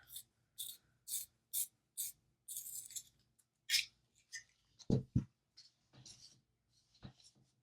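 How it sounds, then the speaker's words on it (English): A colored pencil is sharpened in quick rhythmic twisting scrapes, about eight short crisp bursts up close, followed by faint handling noises. "I think I'm going to sharpen this."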